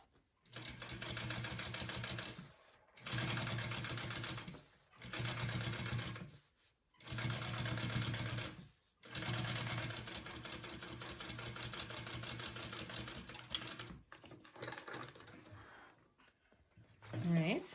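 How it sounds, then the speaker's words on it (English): Sewing machine top stitching a bag piece at a 1/8 inch seam allowance, running in five steady bursts separated by short pauses, then softer handling noises and a brief final whir. "we are going to do a top stitch, and that's done at 1/8 of an inch"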